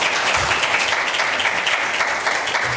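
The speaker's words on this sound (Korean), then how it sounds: "우리 박수 한번 칠까요?" A church congregation applauds during a Sunday worship service, a dense, steady wash of many hands clapping throughout with faint voices mixed in.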